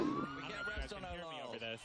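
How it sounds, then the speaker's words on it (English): Wailing sirens play from trucks leading floats in the San Francisco Pride Parade, a rising and falling tone heard faintly at a distance under crowd noise and talk. "if you hear those sirens, it's playing off of the trucks that are in front of these floats"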